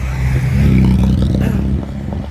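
Loud motor traffic rumbles close by, a car or motorbike engine droning and passing along the street.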